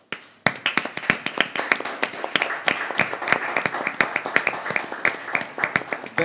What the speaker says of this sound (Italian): Prego la regia, l'applauso per Claudio Coccoluto